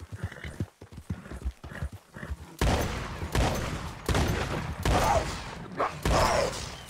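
Rapid clip-clop of galloping horse hooves in Red Dead Redemption 2 Online, steady and loud, mixed with bursts of gunfire and crashing noise.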